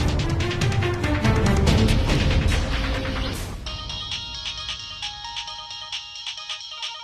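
A mobile phone ringtone chimes in repeated melodic bursts as a call comes in, clear and fairly close. Busy dramatic music plays loudly under it at first, then fades, leaving the ringtone prominent.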